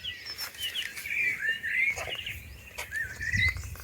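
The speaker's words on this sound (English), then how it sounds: "The birds are starting to sing." Birds sing at dawn outdoors on a farm in Ireland, with several high chirps and short warbling phrases repeating steadily over a low background rumble, moderately close and clear.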